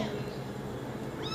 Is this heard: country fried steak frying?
no